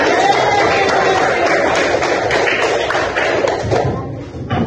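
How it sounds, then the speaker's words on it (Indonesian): Students in a classroom burst into applause for a group's result, a dense, steady wash of clapping hands that fades slightly toward the end. "Tepuk tangannya."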